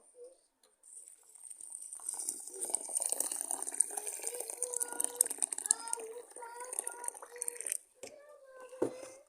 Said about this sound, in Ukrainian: Змілюємо два стакани пшона і заливаємо їх кип'ятком.